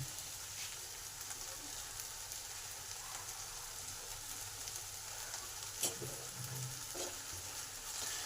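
A paste of ground ginger, cumin and mustard fries in a pan with boiled greens for a Bengali chorchori. The soft, continuous sizzle is close but quiet, with a single brief clatter of stirring.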